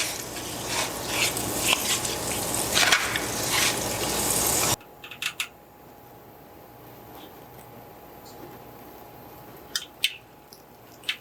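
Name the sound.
butter sizzling in a heated frying pan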